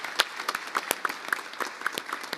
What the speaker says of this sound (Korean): 큰 박수로 화답해 주시기 바랍니다